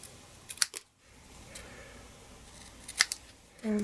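Scissors snip through adhesive tape in a quiet craft setting, a couple of short close cuts separated by soft handling rustle.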